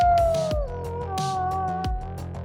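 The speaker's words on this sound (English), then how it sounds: "their pack howls at the moon." A wolf pack howling at the moon: long, wavering howls that slide downward and overlap, loud and close, with short yips and whines breaking in between.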